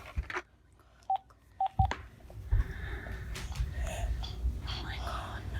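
Telephone keypad tones being dialed in quick separate beeps during an emergency call for help for a 20-month-old child having a seizure, with hushed, whispery voices and household noise around them.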